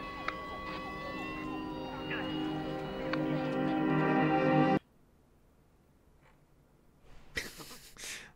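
Emergency sirens wail for several seconds with a steady, slightly falling tone, fairly loud and outdoors, then cut off abruptly, leaving quiet with a few faint knocks.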